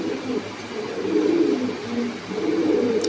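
Pigeons at a breeder's farm coo in low, rolling murmurs that swell and fade in overlapping waves, fairly close, over a faint steady background hum.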